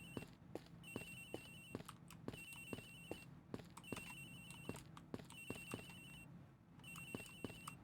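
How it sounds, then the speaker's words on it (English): In the video game Ace Attorney Investigations, Agent Hicks's phone trills faintly in evenly spaced bursts, with soft rhythmic clicks ticking beneath the ringing. "Agent Hicks's phone! It's ringing from somewhere, sir!"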